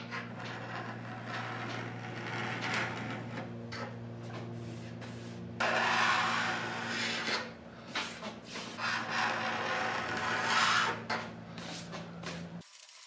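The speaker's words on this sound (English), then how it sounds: "I'm going to use the teardrop scraper and these deep grooves here." A teardrop scraper scrapes deep cracks and grooves in damaged wood veneer on an old dining table, giving a steady close rasping scrape that grows louder and harsher midway, with a low hum underneath.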